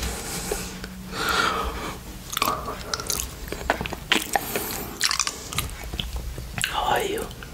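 Close, wet licking and smacking as Greek yoghurt is lapped off a plate, with slurps, soft crunchy mouth noises and breathy sounds in an intimate near-mic setting.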